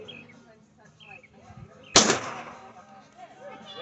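A carbide cannon fired outdoors on the 4th of July gives one sudden loud bang that decays over about a second. Quieter background sounds come before and after it.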